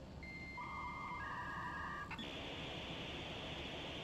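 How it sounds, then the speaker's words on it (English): A dial-up modem handshake plays in the video game Control, with stepped electronic tones shifting pitch in the first two seconds, then a steady hissing screech that carries on to the end, loud and without talk. "why is it playing the dial-up sound?"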